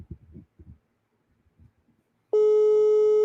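A WhatsApp call to a number in Sierra Leone returns a steady telephone busy tone that starts suddenly after a few quiet seconds and holds loud and unbroken to the end, with some faint low murmuring before it.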